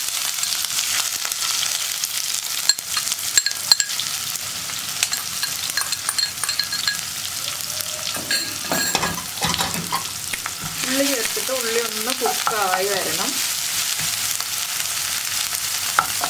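Chopped onion goes into hot oil where mustard seeds have already popped, giving a steady close sizzle and crackle throughout, with stirring scrapes and louder bubbling bursts toward the end.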